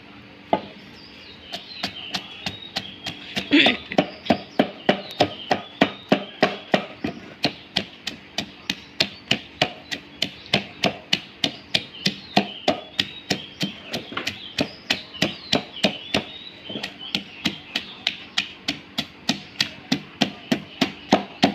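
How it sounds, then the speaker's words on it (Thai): Garlic and shallots pounded together in a mortar with a pestle: a long run of steady, evenly spaced thuds, close and fairly loud, with no talking. "กระเทียมหอมแดง อย่างที่เราเตรียมไว้นะคะโขลกรวมกันเลย"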